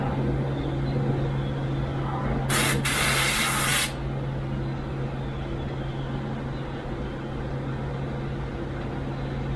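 Paint spray gun releasing solvent during cleaning, a single loud hissing burst of about one and a half seconds over a steady background hum from a compressor or motor.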